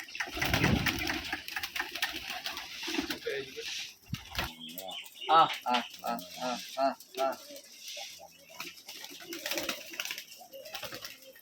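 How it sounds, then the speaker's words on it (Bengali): Rajshahi colour-matched Giribaj pigeons coo in soft, repeated low calls while they feed, with voices talking over and around them. "কবুতরগুলো আসলে খাওয়ার পাগল"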